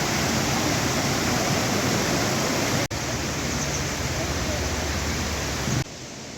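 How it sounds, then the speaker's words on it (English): Waterfall in Chefchaouen, Morocco, a steady loud roar of falling water filling the whole stretch, with a brief dip partway and a slight drop near the end. "We're at the waterfalls now"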